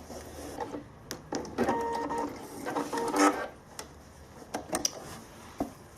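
A Pfaff Ambition 630 sewing machine stitches the edge of a fabric triangle pouch, running in a few short bursts of mechanical whirring separated by brief pauses and clicks, close and clear with no talking.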